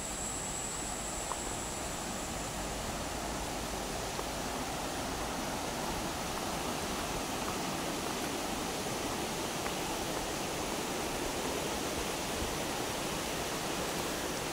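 Waterfall at Bahi Resort in Camarines Norte, a loud continuous broadband rush of falling water with no breaks and no talking.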